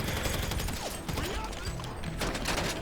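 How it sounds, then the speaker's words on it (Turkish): Bursts of Grand Theft Auto V gunfire crackle amid a busy, noisy mix, with muffled voices and shouting underneath throughout. "Ateş ediyorlar."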